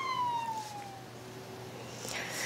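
A fire truck siren wails during a Korean drill clearing a path for fire engines through congested traffic. The tone sweeps downward and then rises again over steady traffic rumble, moderately loud and without any talking.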